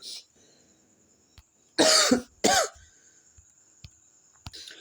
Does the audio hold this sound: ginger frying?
no